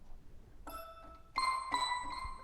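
Trap bell synth preset notes from a software synth plugin ring out in a few separate hits, each a bright, sustained metallic tone with a soft tail, over a quiet background.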